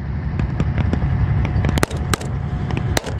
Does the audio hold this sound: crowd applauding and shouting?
no